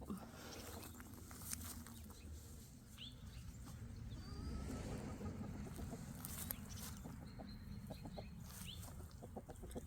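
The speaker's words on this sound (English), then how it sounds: "My chickens are making noise right by me." Chickens cluck nearby in short repeated bursts, with faint background rustling and scattered bird calls, fairly quiet overall.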